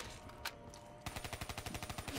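Pistol fire in a Call of Duty Zombies pistol-only match on Zetsubou No Shima, first a single shot, then a rapid run of about a dozen evenly spaced shots, close and clear with no talk.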